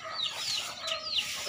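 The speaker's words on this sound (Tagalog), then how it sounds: "Basta hapon ay nagpapakain na ng mga manok." Rural backyard chickens at afternoon feeding time cluck and squawk in short, bright bursts, close and lively, with a couple of sharper calls standing out.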